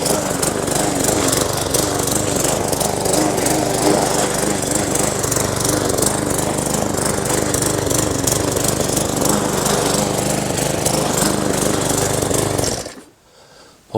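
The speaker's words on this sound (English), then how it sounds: "and all I do is shred it." Garden shredder chewing through brown material, a loud, dense continuous grinding roar with a rattling texture that runs unbroken for over twelve seconds before cutting off abruptly into near silence.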